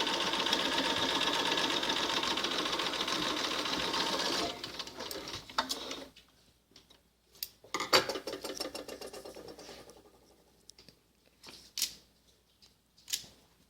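A sewing machine stitches a French seam on an American Girl doll infinity scarf, running steadily for about four seconds, then giving way to short bursts of clicks and handling noises at close range.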